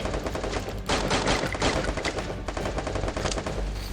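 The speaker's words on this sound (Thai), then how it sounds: "เพื่อนเรานี่รัวยิงแบบรัวมาก" Rapid automatic gunfire from the shooting game Free Fire rattles in dense, continuous bursts, loud and close, with brief dips between volleys.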